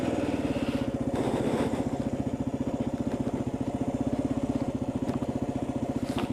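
A Kawasaki KLR motorcycle climbs a mountain road, its single-cylinder engine thumping in a fast, steady rhythm, close and continuous with some wind noise.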